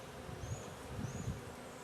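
Honey bees from new 2022 packages buzz faintly and steadily around an opened hive during frame inspection, a soft continuous drone with a few brief louder passes close by.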